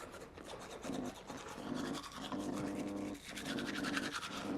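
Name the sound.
brushing teeth with a toothbrush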